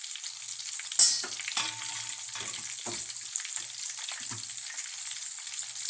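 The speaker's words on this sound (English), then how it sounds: "Pop another onion ring in here. That one's nearly ready to turn over." Keto onion rings frying in hot oil, a close continuous crackling sizzle with a sharp pop near the start and soft bubbling bursts throughout, no talk.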